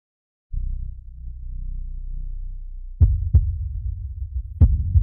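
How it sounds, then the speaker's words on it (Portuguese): A racing heartbeat sound effect: a low, throbbing pulse that starts abruptly after a short silence, then grows heavier with a few sharp, loud thumps near the end. "Batimento cardíaco está de facto mais rápido."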